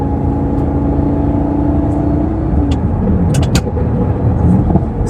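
Loud, steady engine drone inside the cabin of a manual Lamborghini being driven over a bumpy road, a continuous close roar with a slight pitch shift partway through and a few faint knocks and clicks.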